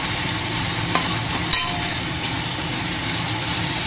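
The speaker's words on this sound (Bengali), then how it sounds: "আর হচ্ছে জিরে বাটাটা দিয়ে ভালো করে কষতে হবে।" Onion, ginger paste, garlic paste and cumin paste frying in a pan, a steady close sizzle with two brief sharp clinks from stirring.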